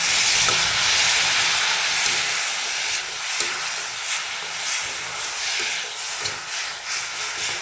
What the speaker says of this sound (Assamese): ইয়াতে মই অলপমান পানী দি ল'ম